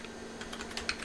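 Typing on an original Apple iMac keyboard, a quick flurry of light, soft plastic key clicks at close range with an uneven rhythm and no talk, against a faint steady hum.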